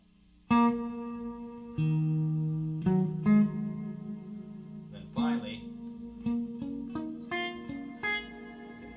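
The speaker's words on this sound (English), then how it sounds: "way up to long tail reverb" Sustained guitar chords ring out with reverb, the effect sweeping from a small room up to a long tail as the notes go on; a voice speaks briefly midway.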